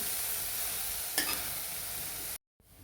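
Chopped onion sizzles lightly in a hot kadhai for egg bhurji, a steady close hiss with one brief scrape before it cuts out abruptly.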